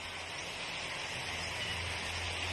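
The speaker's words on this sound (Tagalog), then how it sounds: "Umuulan na, Nay." Steady rain falls outdoors on a chilly day, a dense even hiss that holds unbroken throughout, with no voices over it.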